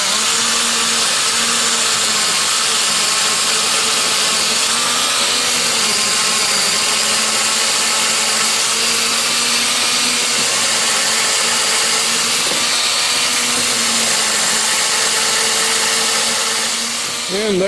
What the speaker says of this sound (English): This keeps my drill going straight in the right spot.